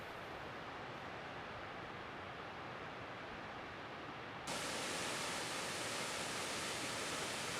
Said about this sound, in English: All of the cascades that rim the basin coming down, and it's just amazing how much water is continually flowing